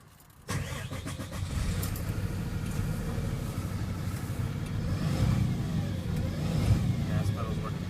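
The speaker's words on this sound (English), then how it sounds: "I'm gonna press my gas and I'm gonna press the brake" A car engine starts abruptly after a short quiet lead-in and keeps running loud and steady, swelling slightly as the gas pedal is pressed during a pre-trip pedal and brake check, with faint talk underneath.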